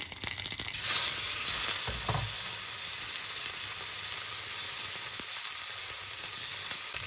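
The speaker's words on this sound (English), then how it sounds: "Let's just start by rendering that edge fat" Wagyu edge fat renders in a hot pan with a steady, close sizzle that crackles and pops at first, then settles into a constant bright hiss for several seconds.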